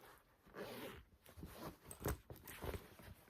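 A zipper on an inside pocket of a boho-style handbag with faux tan handles makes soft, close rustling and scratching handling sounds in a quiet room, with no talking.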